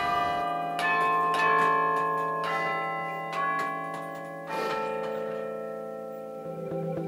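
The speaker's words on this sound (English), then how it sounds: "the sound of a well-made bell somehow resonates with the human heart." A well-made church bell struck several times, each strike ringing out loud and rich with a long sustained hum that slowly fades away, no voices present.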